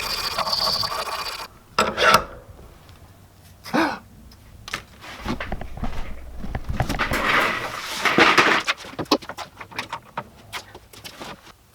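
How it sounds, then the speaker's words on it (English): Hand sanding shapes a wooden jointed jerkbait lure, giving irregular short rasping strokes of varying loudness with brief pauses between, close by and with no talking. "Time to sand stuff."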